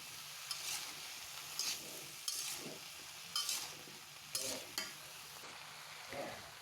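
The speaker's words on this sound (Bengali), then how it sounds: "তো আমি ভালো করে লাড়া নিয়ে দিতেছি যাতে সব মশলা একসাথে মিশা যায়" A spoon scrapes and stirs spices into an eggplant curry frying in a pan, with a steady sizzle underneath and a regular rhythm of close stirring strokes.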